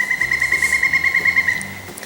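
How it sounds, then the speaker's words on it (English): A pileated woodpecker calls in a rapid, even run of about fourteen clear, ringing notes that hold a steady pitch before trailing off, fairly close and loud with no voices. "Pileated woodpecker."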